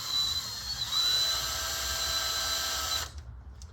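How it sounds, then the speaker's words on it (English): Power drill with a 1/4 inch bit boring a hole for a skeg guard, a high steady whine that shifts pitch as it bites, running about three seconds before stopping abruptly. "I'm gonna go ahead and just drill right here"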